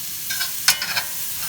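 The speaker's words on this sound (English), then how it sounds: "Green onion. And saute around." Green onion sautéing in a pan for a shrimp and vegetable pasta, a soft sizzle with a few light scraping stirs and one sharp clink of the utensil against the pan.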